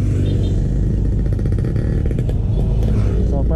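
A Yamaha Mio Gravis scooter rides along a road near Morong, its engine droning close and loud with rough rumble and wind noise throughout.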